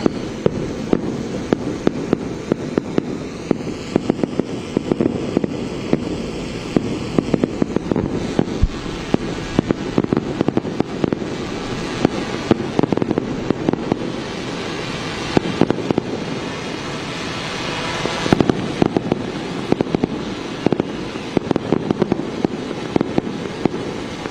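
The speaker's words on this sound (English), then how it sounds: "Fireworks being displayed there." Fireworks at a presidential swearing-in ceremony in Uganda, a steady run of sharp crackling bursts and pops over more than twenty seconds, loud and continuous with no speech.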